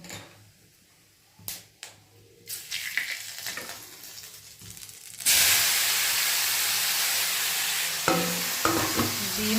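Bay leaf and crushed whole garam masala hit hot oil with fried potatoes for an egg curry, a few stirring scrapes first, then a loud steady sizzle bursting up and continuing close by.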